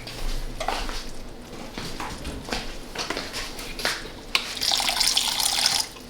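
Liquid pours steadily into a pan of salted cod stew sauce, a continuous splashing wash with a few light clinks of utensils, close and fairly loud with no talking.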